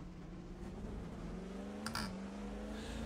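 Steady hum of a 7-liter V12 car engine in a racing video game, holding a low even drone with a slight pitch shift near the middle and a brief brighter burst around two seconds.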